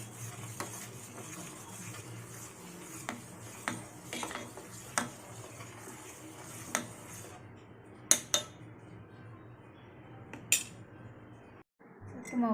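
A spoon stirs palm sugar into millet porridge with scattered metallic clinks and taps against the vessel, close and soft, over faint background noise.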